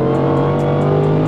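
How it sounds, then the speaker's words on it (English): A sports car engine at speed gives a loud, steady, droning growl from inside the cabin, with a strong low hum that holds evenly through a brief moment. "you hear the downshift quick."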